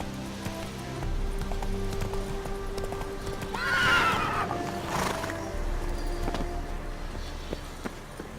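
Roach, a horse in The Witcher 3, gallops with steady clip-clop hoofbeats and gives a clear whinny partway through, set over faint ambient game sound.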